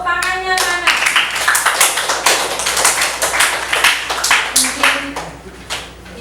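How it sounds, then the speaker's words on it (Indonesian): Students in a classroom clap their hands during an Islamic jurisprudence lesson, giving a burst of close, loud, quick claps after a brief voice at the start. "Ya, tepuk tangannya mana?"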